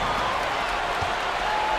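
Crowd noise swells after a dunk in the basketball video game NBA 2K26, a steady, dense arena roar and applause with faint commentary beneath.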